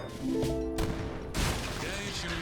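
Leather cannon firing in an Age of Empires 3 battle. A couple of sharp, booming blasts stand out over busy game noise with tonal sounds.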